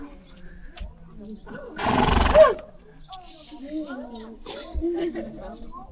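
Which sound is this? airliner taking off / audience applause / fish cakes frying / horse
horse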